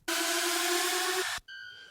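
A loud, hissing uplifter riser in a dubstep track, layered tones holding steady for over a second, cutting off sharply, then a brighter tonal tail rings briefly.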